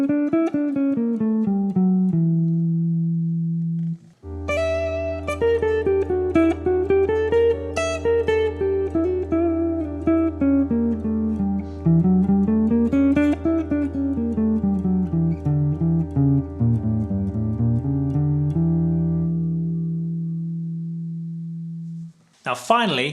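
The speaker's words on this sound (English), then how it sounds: "Now that's actually the second mode of the harmonic major scale, the D harmonic major scale." Second mode of the D harmonic major scale played as a melodic run up and down over a sustained low drone, a clear stepwise line of notes after a short opening figure, without any talking.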